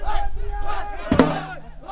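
A large crowd in Mali shouts and cries out together during the ritual mud plastering of a mosque, with loud overlapping voices and a sharp collective yell near the middle.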